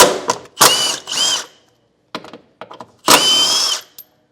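A power tool whirs in three main bursts, each about half a second long, with shorter stutters between them, close and loud, as it backs bolts out of a Westin Pro-E powered running board bracket on a 2022 Toyota Tundra.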